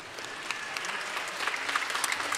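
Concert audience applauding at a Sofia Philharmonic Christmas matinee, a dense steady clapping of many hands sustained through the whole moment, moderately loud and without speech.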